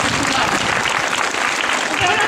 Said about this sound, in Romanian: Aplauze pentru voi